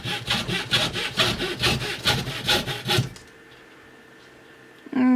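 Push-cut saw working through a piece of balsa wood, a quick run of rhythmic rasping strokes close up for about three seconds, then near silence with a faint hum and a short knock at the end.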